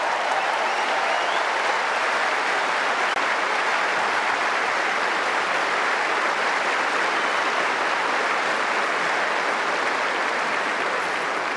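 On Wimbledon's centre court before a final, a packed crowd near the Royal Box greets the players' arrival with loud, sustained applause that rolls on without a break.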